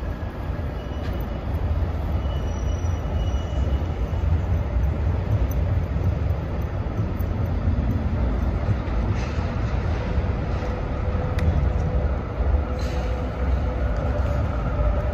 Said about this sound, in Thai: รถรางมาแล้วพี่น้อง